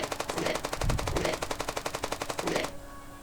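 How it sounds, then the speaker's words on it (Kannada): Rapid automatic gunfire from a video game zombie shooter, a fast steady burst of evenly spaced shots lasting a few seconds before cutting off into quiet. "ಗನ್ ತೊಗೊಂಡು ಶೂಟ್ ಮಾಡಬೇಕು"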